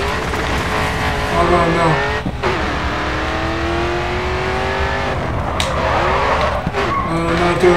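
Race car drifting in the Grid 2 racing game: a continuous droning engine with long tire squeals and skidding through a corner, loud and steady, while a voice exclaims briefly over it.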